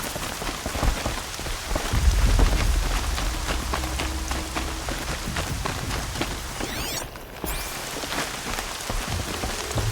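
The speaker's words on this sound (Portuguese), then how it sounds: "chovendo aqui mesmo" Rain falls in the video game Horizon Zero Dawn, a dense, continuous patter on surfaces with a low rumble early on, steady and fairly loud throughout.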